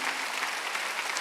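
A church congregation applauding during a Sunday service, a brief dense burst of clapping from many hands.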